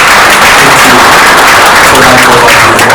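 Sustained applause from a conference audience at the Kenya Space Agency strategic plan launch: dense, loud, even clapping that fills the whole stretch with no break.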